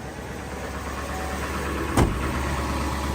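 A Ford 7.3 Powerstroke diesel engine in a van runs at a steady high idle, a continuous mid-level rumble with one brief louder knock-like burst partway through.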